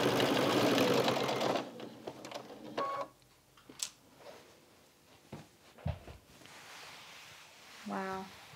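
A sewing machine stitching quilt-as-you-go rows of string and scrap fabric hums steadily and loudly at first, then stops. Scattered clicks and short mechanical whirs follow, with a brief burst of stitching near the end.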